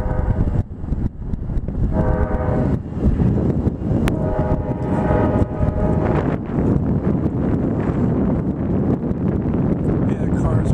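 A train rumbles past close by near the Hudson River at Poughkeepsie-Highland, with steady heavy clatter and a brief high whistle-like tone partway through, as voices talk over it.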